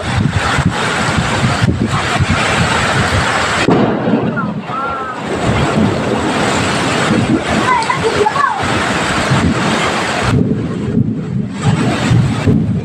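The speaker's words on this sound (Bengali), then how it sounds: "দেখো আমাদের এদিকে কি বৃষ্টি, কি বিদ্যুৎ চমকাচ্ছে" Heavy rain roars steadily throughout, with rumbling low thunder and gusty noise mixed in, and faint voices occasionally audible beneath the downpour.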